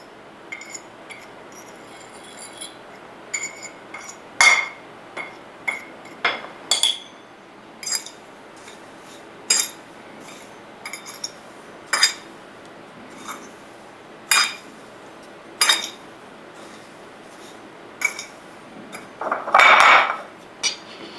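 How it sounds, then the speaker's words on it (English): A fork mixes dry ingredients in a bowl for tonkatsu breading, giving a steady run of sharp metal-on-bowl clinks about every second, close and clear, ending in a louder clattering burst. "so I can use my dry fork to mix the dry ingredients first."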